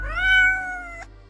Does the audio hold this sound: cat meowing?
yes